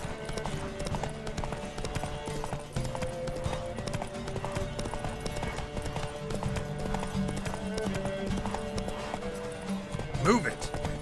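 A horse gallops in a race in the video game The Witcher 3, with quick rhythmic hoofbeats running continuously under music and other game sounds, and a whinny rising near the end; voices call out over it.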